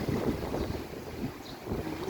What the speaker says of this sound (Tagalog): Masyadong maalon today kasi high tide siya